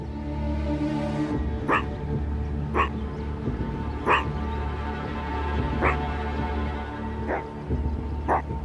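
A meerkat's sharp, high alarm barks repeat roughly every second and a half, standing out clearly over a steady low background rumble.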